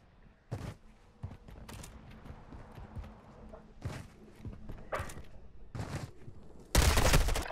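Gunfire in a shooter video game comes in spaced bursts of sharp reports over quiet background noise, ending with a louder, denser burst.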